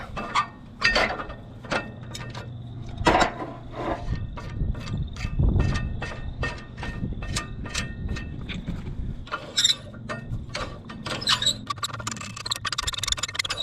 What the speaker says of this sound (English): To loosen this top link up and tighten that.